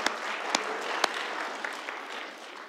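Audience applause at an indoor bicentennial birthday celebration, a soft, steady patter of clapping throughout, with a few sharper individual claps standing out early.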